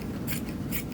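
Scissors snip off a piece of craft material in an art studio, two quick bright cuts about half a second apart over a steady low room hum, close and fairly quiet.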